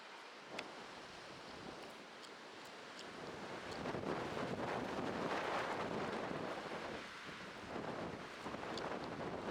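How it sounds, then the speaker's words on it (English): Strong wind roars across the microphone outdoors at an archery shooting range, in rising and falling gusts, peaking midway, with a few faint clicks and no voices. "Super windy out, so I'm gonna try and shoot in between wind gusts like this."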